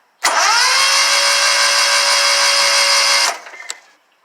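A Kawasaki FX691v engine on a Scag Tiger Cat II zero-turn mower, which has a backfiring, one-cylinder fault, cranks loudly and steadily on a weak battery for about three seconds, then stops without firing, leaving faint clicks and rattles.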